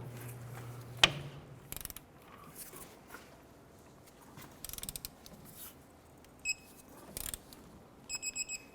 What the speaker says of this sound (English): Let's go ahead and torque our upper bolt to 96 foot-pounds.